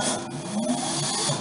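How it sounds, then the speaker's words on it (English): An Instron compression testing machine lowering its crosshead toward a sample, a steady mechanical whir and hum with faint ratcheting ticks, close and moderately loud throughout. "now I need to lower the machine at the level of the sample"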